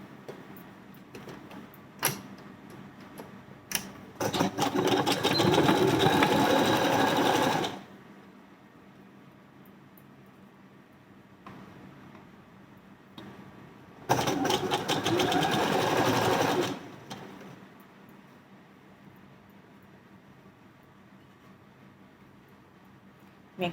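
A sewing machine stitches a blouse dart in two separate bursts of fast, steady whirring, each lasting a few seconds. Quiet handling and light clicks fill the pauses between them.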